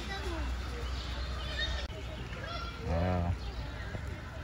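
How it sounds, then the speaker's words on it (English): Ducks at Prospect Park Zoo give a short honking quack midway through, heard under near, continuous talking and steady outdoor background noise. "The beautiful ducks. Little beautiful ducks here."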